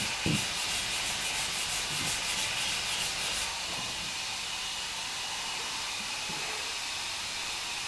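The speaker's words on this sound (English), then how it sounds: "I'll be able to sand this out with 180, no problem." Hand sanding of a car fender with 180-grit paper wrapped on a sanding block, a steady close abrasive rubbing hiss with rhythmic strokes early on, continuing alone without talk.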